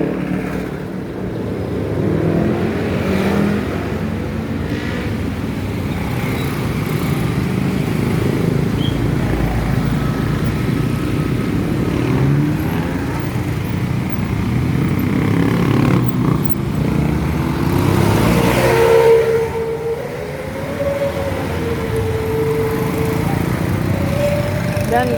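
Road traffic of cars and motorcycles queued in a jam on an alternative route near Sukabumi, heard as a steady engine drone with a revving light engine nearby, loud and continuous, with speech over it.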